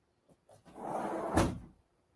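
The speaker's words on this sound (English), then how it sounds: "Let me close this door." A door swung shut indoors: a few light handling knocks, then a rushing sweep ending in a firm thud, close and alone with no talk.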